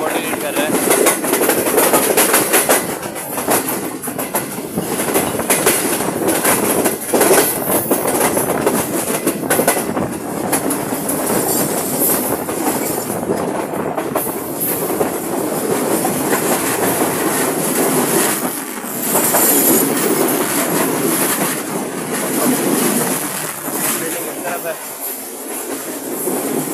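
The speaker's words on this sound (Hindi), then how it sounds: "उसके आउटर में हमारी मुलाकात हो रही है एक फ्रेट ट्रेन से" A freight train with a diesel locomotive rolls past near a railway station in Pakistan, its loud continuous rumble and clickety-clack of wheels filling the whole stretch, with brief squeals.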